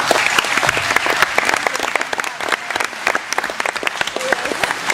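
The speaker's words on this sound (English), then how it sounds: "Give yourselves a round of applause." Wedding guests clap together for the couple Danielle and Terry after the speeches, a dense, sustained round of applause with crisp individual claps throughout.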